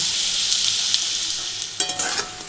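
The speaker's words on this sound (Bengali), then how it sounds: "এই যে আলু ভেজে নিচ্ছি" Potatoes frying in a pan with cumin, bay leaf and green chilli, a steady bright sizzle joined near the end by a few sharp spatula scrapes and clacks.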